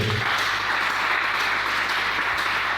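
A church congregation bursts into applause, a dense, steady wash of clapping from many hands filling the room at an even level for a few seconds.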